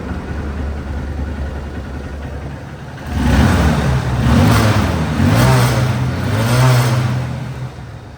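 A second-hand Honda CB Trigger 150cc motorcycle engine idles quietly, then revs up loudly for several rising and falling bursts at close range, with no talking.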